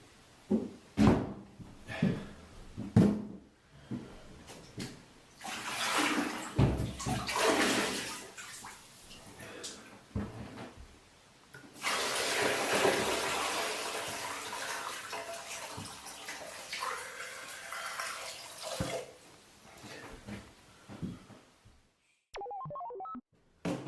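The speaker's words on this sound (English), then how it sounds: "I need a better system to fill it up with because that water just went everywhere" Water fills a container during a prepper challenge and spills over, with loud rushing and splashing bursts that stop and start, a long steady pour in the middle, then quiet with a few small knocks.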